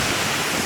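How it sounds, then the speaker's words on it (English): A waterfall on an Eastern Cape hiking trail gives a loud, steady rush of falling water, filling the brief moment without a break. "here is a waterfall"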